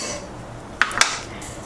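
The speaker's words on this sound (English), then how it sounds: "I'll go straight to adding our fire roasted tomatoes" Fire-roasted tomatoes from a can tumble into a cooking pan during a plant-based rigatoni recipe, giving two quick clinks of metal and liquid, near and brief, against quiet kitchen background.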